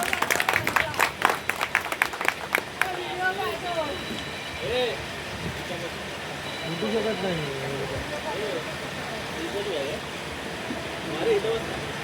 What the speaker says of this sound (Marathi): एकदा जोरदार त्यांच्यासाठी टाळ्या झाल्या पाहिजे.